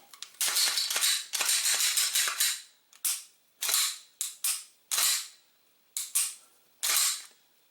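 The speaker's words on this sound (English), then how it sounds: "Trigger reset. Click, pull. Click, pull." A Glock 21 pistol being dry fired gives a series of sharp, close mechanical clicks from trigger pulls and resets. The clicks are crisp and sit against silence, some in quick clusters and others spaced apart.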